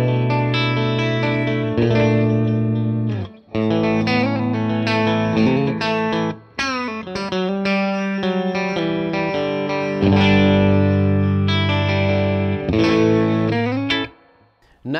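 Electric guitar plays through a MESA/Boogie Fillmore 25 tube amp on the clean channel with a touch of tube-driven spring reverb: sustained chords and melodic phrases ring out loud and close, with brief pauses between phrases.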